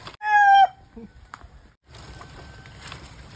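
A rooster crows loudly and close, then a few soft clucks and scattered farmyard noise follow.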